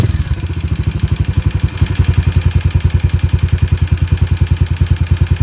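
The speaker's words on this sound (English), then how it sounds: "give the throttle a bit of a blip." A Yamaha SR250 single-cylinder motorcycle engine thumps in a fast, even rhythm close up, its beat quickening briefly after a short throttle blip before settling back to a steady idle.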